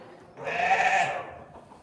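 A newborn baby lamb lets out one clear, close bleat lasting under a second, with quiet before and after.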